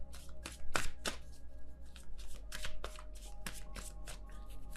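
A deck of tarot cards is shuffled close up in quick riffling bursts, with rapid papery flicks and slaps that repeat throughout.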